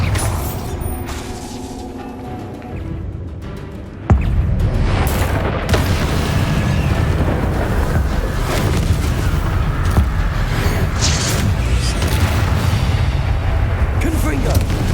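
A Bombarda blasting spell explodes in Hogwarts Legacy, with a sudden loud boom followed by a dense, sustained rumble of debris and battle noise, and a voice speaking over it.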